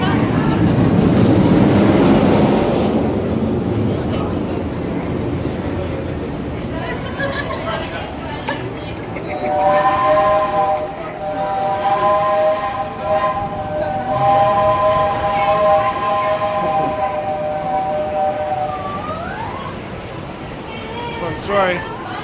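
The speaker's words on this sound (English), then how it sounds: "I used to run that train" A train at the Cedar Point amusement park, its steady rumble running under talk and crowd noise, with a long sustained horn or whistle tone in the middle of the stretch.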